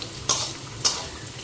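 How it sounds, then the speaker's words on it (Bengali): Potatoes sautéing in a pan, a soft steady sizzle broken by two quick scraping stirs, close and moderately quiet, without talk. "আলুগুলি সাতলাই নিতেছি"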